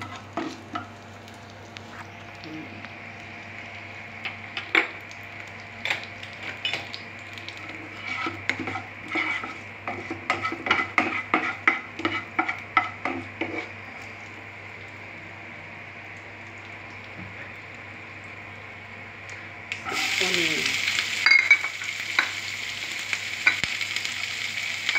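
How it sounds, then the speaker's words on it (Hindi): Cumin seeds fry in oil in a pan with a soft, steady sizzle, broken by clicks and stirring taps, then a louder, brighter burst of hissing comes near the end. "जीरा गया इसमें, थोड़ा सा जब भून जाएगा"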